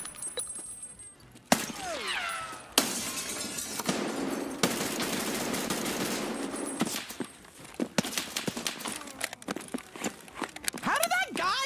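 Sharp gunfire in an Escape from Tarkov raid comes in rapid bursts and scattered single shots across the stretch, with crackling impacts, loud and close at times, while players speak over it.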